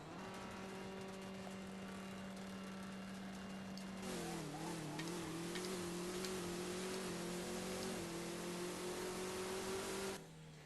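A car engine in the drag racing video game No Limit 2 idles steadily, then revs up sharply and holds a high strained pitch for several seconds before cutting off abruptly, loud and alone.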